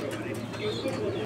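A fancy pigeon for sale at a bird market coos softly and briefly, close by, under low background murmur.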